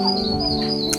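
Birds call in a hill forest among flowering trees with a view of Kanchenjunga. A steady high whistle carries throughout, with a brief chirp near the end, over a low rumble of strong wind.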